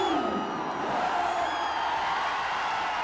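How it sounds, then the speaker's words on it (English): A partisan cricket crowd roars steadily in a Chennai stadium, a dense, continuous wash of cheering and whooping at a distance with no breaks. "Very partisan crowd here."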